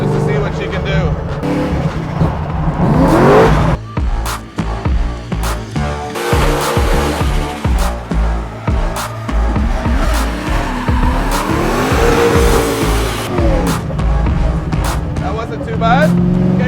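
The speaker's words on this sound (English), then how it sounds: "Let's go to the Mustang and give it a try" A Ford Mustang driven hard around a race track, its engine loud and close, revving up and dropping back in repeated surges, with tires squealing through the corners.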